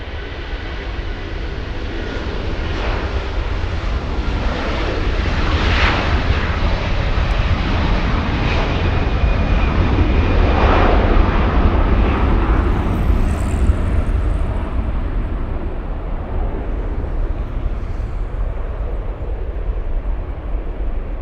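A heavy Airbus airliner departs LAX, its jet engines roaring loud and steady as it swells and peaks mid-pass before holding a broad, sustained rumble with a faint high whine on top.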